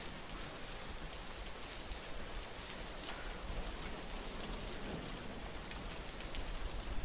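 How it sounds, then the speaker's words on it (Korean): Heavy rain pours down in a dense, even hiss that holds steady for about seven seconds, with no voices. "오늘 비도 많이 내려가지고"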